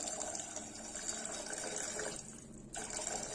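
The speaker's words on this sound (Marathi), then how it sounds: "इथे आपण साधारण 2 वाट्या पाणी घालणार आहोत" Two cups of water poured into a pan while making ragi soup with vegetables, a close and continuous splashing gush that briefly thins out near the end.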